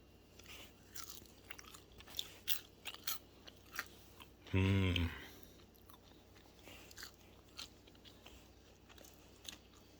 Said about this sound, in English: So we're going to go ahead and get one and taste it. Look at that, how crispy that is.